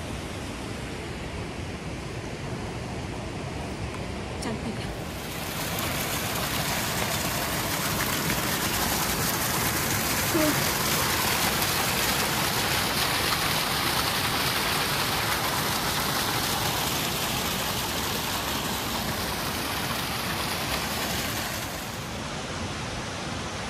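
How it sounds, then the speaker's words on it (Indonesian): River water from a waterfall rushes in a steady broadband roar, loud and continuous, swelling louder after the first few seconds and holding without pause. "di belakang ke sungainya, airnya yang mengalir dari air terjun situ"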